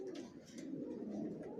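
Racing pigeon squabs in a loft coo steadily and softly, the low murmuring of several birds overlapping into a continuous, close, unbroken drone with no talk.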